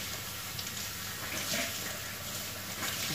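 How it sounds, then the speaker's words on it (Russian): Tap water runs to rinse a white sink, a steady close splashing hiss lasting the whole brief moment. "Вот так чуть-чуть намылила, водичкой смыла."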